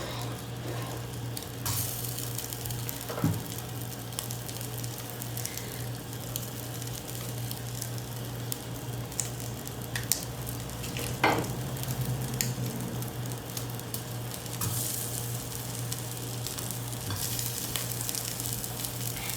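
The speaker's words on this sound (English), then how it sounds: "I'm just going to start squeezing the meat into my hot skillet" Dominican longaniza pork sausage sizzles steadily in a hot skillet at medium-high heat, giving a continuous crackling fry with occasional louder pops and spatters, close and alone.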